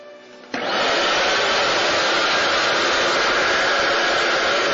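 A vacuum abruptly switches on and runs steadily, loud and close, as it sucks up floor stripper solution along the edges of a floor, with a constant rushing whine and no voices.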